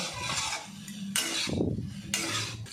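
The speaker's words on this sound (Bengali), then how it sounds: "সমস্ত আলু দিয়ে আমি আবারও ভালো করে একটু কষিয়ে নেব" Fried potatoes are stirred in a pan of soybean kosa, giving scraping spoon strokes and light metallic clinks in bursts over a steady sizzle, close and moderately loud.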